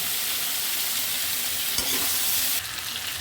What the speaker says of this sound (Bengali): হলুদ দিয়ে দিলাম, লবণ দিয়েই ভাজবো।